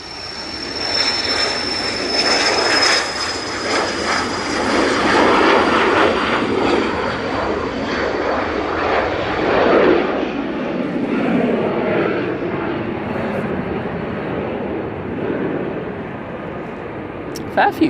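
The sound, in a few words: Cessna Citation business jet taking off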